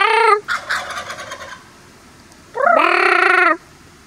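Turkeys gobble in two loud bursts close by, a short rattling call followed by a longer sustained gobble after a pause, with nothing else heard.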